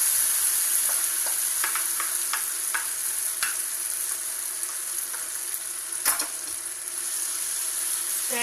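Ingredients frying in coconut oil in a pan for a Mangalorean-style egg roast, a loud, continuous close sizzle with a few sharp scraping stirs.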